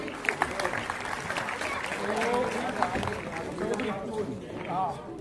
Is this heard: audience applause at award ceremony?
yes